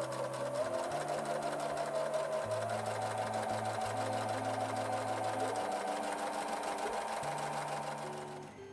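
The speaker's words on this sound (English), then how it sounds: "I will now take a couple of these strips up to the sewing room and sew a scant 1/4 inch seam" A sewing machine runs continuously at a fast, even speed, stitching a scant quarter-inch seam down fabric strips for half-square triangles, its motor humming with a busy needle clatter throughout before slowing slightly at the end.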